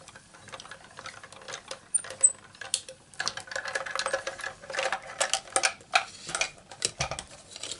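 A paper flower shape is die-cut, with a run of quick mechanical clicks and ratcheting taps that grow busier toward the end, close and moderately loud, with no talking.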